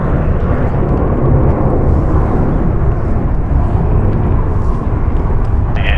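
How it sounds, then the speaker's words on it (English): A six-year-old American Airlines Airbus A321 jet roars loudly on departure at LAX, a broad, steady rushing engine noise that holds for several seconds at close range with no voices. "here is American Airlines Flight 1448, going to Orlando, Airbus A321, 6 years old"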